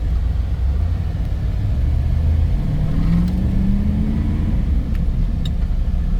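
A 1990 lowrider GMC Suburban drives past up close, its engine a steady, loud low rumble that climbs in pitch as it accelerates, with no talking.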